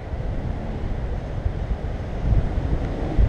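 Waterfall roaring as a steady, dense rush of water, loud and close and continuous, with no voices.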